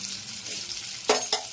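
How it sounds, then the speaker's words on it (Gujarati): Mustard seeds and cumin tempering in hot oil for stuffed okra: a steady close sizzle with two sharp bursts of crackling spatter near the end, no talking. "રાય જીરું વઘાર થઈ રહ્યો છે ભાઈ ભીંડાનો"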